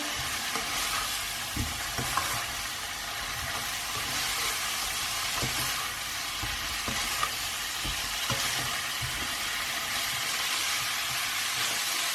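A spoon stirs a homemade spice blend through cauliflower and pepper masala frying in a pan, steady sizzling with occasional scraping strokes, close and continuous with no talking.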